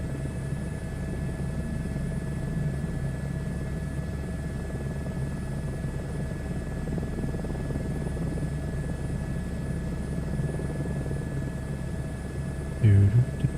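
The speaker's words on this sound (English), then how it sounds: "I love the sound of this helicopter" Helicopter in Microsoft Flight Simulator 2024 on a search-and-rescue flight, a steady low rotor drone and engine hum holding constant throughout, with a brief clatter near the end.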